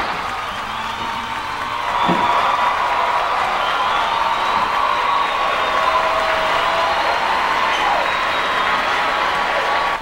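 Studio audience applauding and cheering as a guest walks on during a comedy talk show, a steady broad wash of clapping with some whoops that swells after a couple of seconds and holds.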